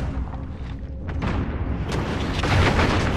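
Gunfire in the multiplayer video game Call of Duty Modern Warfare booms loud and dense over a constant rumbling battle din, with several sharp reports toward the end.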